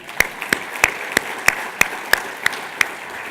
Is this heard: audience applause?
yes